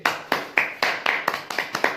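An audience claps to welcome a fencing coach on stage, with a steady, rhythmic run of about eight crisp, evenly spaced claps over two seconds.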